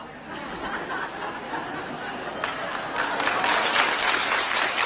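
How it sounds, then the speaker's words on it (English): An audience claps throughout, the applause swelling in the last couple of seconds with scattered chuckles mixed in. "please, don't clap."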